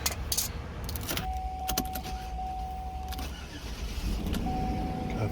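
A Saab 9-7X is started after a shifter cable bushing repair, with keys jangling, then the starter and engine catching, and a steady idle settling in close by.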